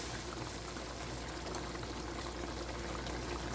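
Chicken simmers in yogurt water in a pot over medium-high heat, a faint, steady bubbling hiss running continuously without talk.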